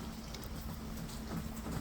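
Heavy rain pouring down outdoors in a thatched hut shelter, a dense, constant hiss of falling water with no pauses.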